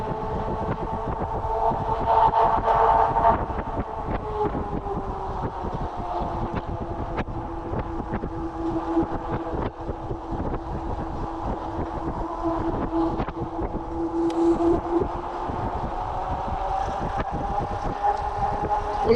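Magician Alpha motorcycle climbing a hill in Arkansas under light throttle, a steady engine drone that holds and shifts slightly in pitch, with wind buffeting the microphone and no talking.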